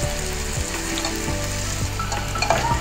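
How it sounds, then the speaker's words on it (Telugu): Tomatoes and green chillies cook in oil over a high flame, a loud, dense sizzle and crackle close by, with occasional stirring scrapes and no voices. "ఆయిల్ వేసి హై ఫ్లేమ్ లో కొద్దిసేపు ఉడికించుకొని"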